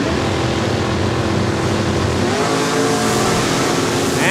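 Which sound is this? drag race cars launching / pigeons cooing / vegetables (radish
drag race cars launching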